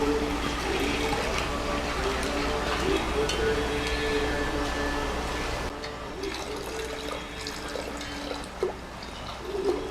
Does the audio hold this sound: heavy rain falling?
no